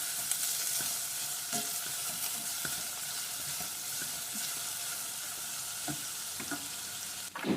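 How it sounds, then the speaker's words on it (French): Shallots sizzle steadily in a hot pan while being stirred, a continuous moderate frying hiss with occasional soft scrapes of the spoon, no voices. "Donc vous tournez bien pour que les échalotes aient le temps de fondre."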